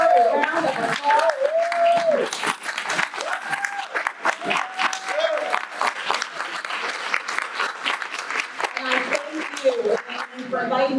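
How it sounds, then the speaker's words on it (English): Audience applause at a 2023 HBCU keynote for pre-law students fills the room with steady, dense clapping for about eleven seconds, with voices speaking over it at the start and again near the end. "Stand and give her a round of applause."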